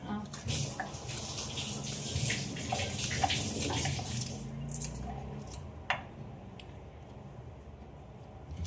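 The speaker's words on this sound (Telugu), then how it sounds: "నేను టమాటాలు కడిగేసుకొని వస్తాను" Running tap water and sloshing as tomatoes are washed for okra dal in a home kitchen, a continuous wet splashing with occasional clinks, fairly close.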